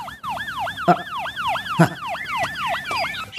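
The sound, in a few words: police car siren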